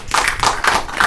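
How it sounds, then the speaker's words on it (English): Hands clap in a short burst at the end of a podcast segment, with several quick claps repeating in a steady rhythm, close and fairly loud, and no talking over them. "Let's give ourselves a round of applause for that topic."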